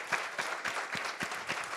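A book club audience applauds two guest speakers, with soft, rhythmic clapping heard at a distance and at a fairly low level.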